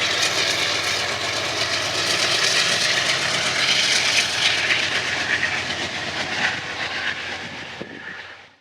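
An old BNSF freight train with its locomotive rolls past on the rails, a loud, continuous rumbling roar close by that fades out at the end.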